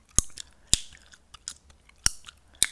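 Gum being chewed close to the mic, sharp wet clicks and smacks spaced irregularly, some loud and some soft, over near silence with no voices.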